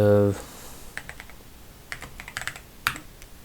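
Keys tapped on a computer keyboard while entering a password during a Linux Mint software install, a quick irregular run of light clicks close up, starting after a brief tone.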